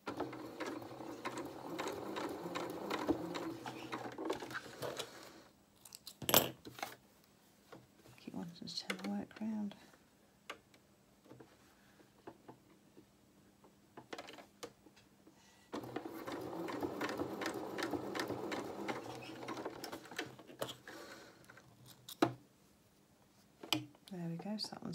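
A sewing machine stitches the pieces of a small wool coat, running in two long bursts of rapid mechanical whirring with a quieter pause between them, filled by handling noises and brief talk.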